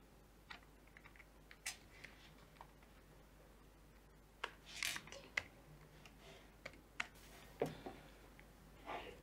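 A computer keyboard is tapped to enter a login and password, irregular light keystrokes in short bursts with brief pauses, close and quiet over faint room hum.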